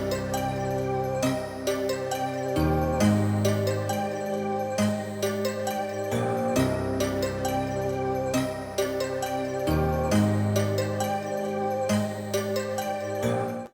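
Layered piano melody and root notes soaked in Valhalla VintageVerb reverb within a melodic FL Studio beat, playing steadily and loud with a rhythmic low bass pulse throughout, no voices.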